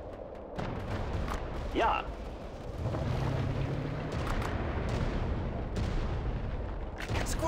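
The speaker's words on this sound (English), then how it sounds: "Our cannons are ready. The enemy is near. Fire on my position." A Golden Maus tank fires its cannon in the WWA RTS strategy game. Muffled booms and blasts roll under a steady battle din, while voices speak over the action.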